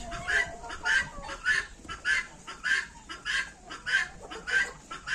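Young chickens cluck in quick, repeated bursts, several birds close by, a busy rhythmic chatter with short gaps between calls and no talking.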